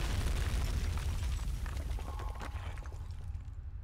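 An explosion in the video game Amnesia: The Dark Descent, a loud, deep, broad rumble that fills the clip and slowly fades out over a few seconds, with no voices.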